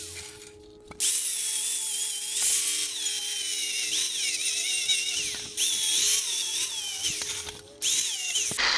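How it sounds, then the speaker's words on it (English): A power tool cuts metal loose just above a weld, producing a loud, close, sustained whine with a wavering pitch, broken by a few brief stops and restarts. "now I'm just gonna cut this loose right here above the weld."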